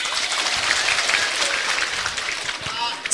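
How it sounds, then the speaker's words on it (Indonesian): A congregation at an Islamic religious lecture breaks into loud, dense applause, continuous clapping sustained throughout with faint voices mixed in. "tepuk tangan."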